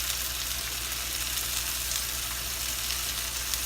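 Food sears on a hot Himalayan salt plate, producing a loud, dense, even sizzle that holds steady from start to finish, close up and without any talking.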